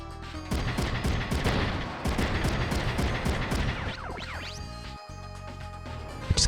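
Mech weapons in Front Mission 3 fire in a dense, continuous burst of loud rapid shots, then the firing thins to scattered hits and mechanical clatter before a brief pause.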